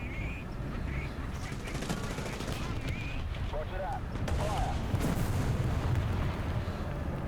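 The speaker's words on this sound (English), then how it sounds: "Now I can drop artillery on them." Artillery fire in the War Thunder video game, heard as a continuous rumble of booming shots and crackling gunfire over a dense battlefield din, with a voice talking intermittently.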